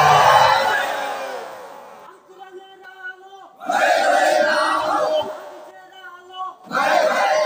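A large crowd at a Bangladeshi waz mahfil sermon roars a takbir chant in unison, several loud collective shouts broken by a single voice leading in between.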